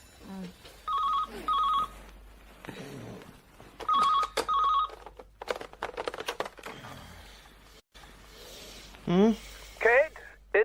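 A telephone rings with paired electronic trills repeating twice, close and clear, followed by handling clicks and people talking.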